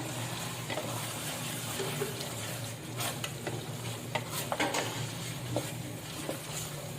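Chopped chillies and ginger fry with beef karahi in a pan, giving a steady close sizzle under repeated stirring scrapes and a few sharper clinks, with no talk.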